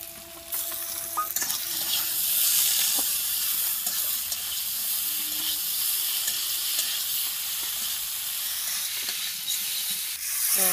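Cumin and green chili paste frying in a pan for fish curry, a loud continuous sizzle and hiss with occasional stirring scrapes, close up and steady throughout.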